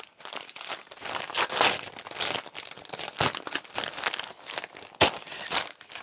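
Christmas wrapping paper crinkles and tears as a present is unwrapped by hand, close and fairly loud, in irregular bursts of rustling with a couple of sharp rips.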